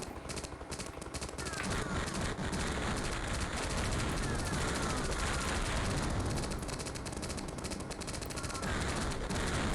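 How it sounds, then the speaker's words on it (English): Rapid chain gun fire from the DOS video game Firestorm: Thunderhawk 2, a dense continuous rattle of bursts over a busy noisy game soundtrack, loud and unbroken throughout. "your chain gun has infinity rounds"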